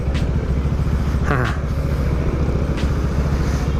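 A naked sports-touring motorcycle with a stock setup, a mid pipe and a resonator idles steadily nearby, its low engine rumble continuous and fairly loud throughout.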